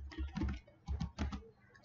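Commands are typed on a computer keyboard in quick bursts of close, soft key clatter, with brief pauses between groups of keystrokes.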